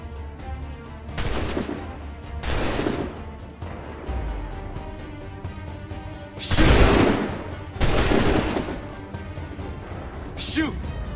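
Musket volleys in Assassin's Creed 3, several loud massed bursts of gunfire spaced a second or two apart, each rolling with a boom, with shouted voices between them.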